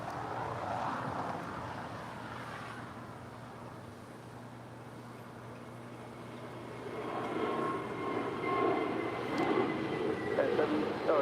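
A Spirit Airlines jet departing LAX for Philadelphia, a steady distant engine roar that swells louder in the last few seconds, heard continuously throughout.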